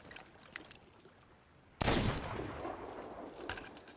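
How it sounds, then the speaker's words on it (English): Gunfire in the Sea of Thieves video game, aimed at a shark: a sudden loud blast bursts out midway and rolls on as a sustained roar, with another sharp hit near the end, after quieter rustling. "I'm gonna shoot the shark."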